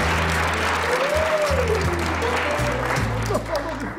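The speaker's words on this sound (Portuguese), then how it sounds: "Uma salva de palmas, por favor." A studio audience claps throughout on a Brazilian television comedy show, the applause steady and broad, with a voice talking over it and bursts of music underneath.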